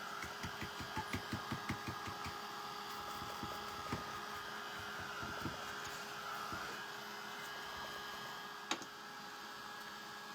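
A hair dryer blows on a glittery Christmas ornament, heard as a faint, steady whir with a rapid rhythmic pulsing at the start and a single sharp knock near the end.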